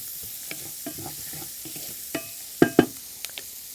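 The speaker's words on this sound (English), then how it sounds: "you just want to saute that in the oil in the bottom until it's kind of translucent and softened" Orange bell pepper sautéing in oil in a pan for ras el hanout meatballs and rice pilaf, with a steady soft sizzle, occasional light stirring scrapes and two sharper utensil knocks near the end.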